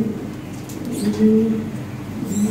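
Lahori pigeons give low, soft coos, a couple of short murmuring calls rising over a faint background hum.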